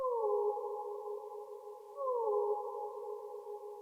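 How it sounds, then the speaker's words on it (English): An Omnisphere Boys Choir Soloist synth voice sings sustained tones that glide down in pitch, two smooth swooping phrases about two seconds apart, clean and alone. "So I'm using Boys Choir Soloist R."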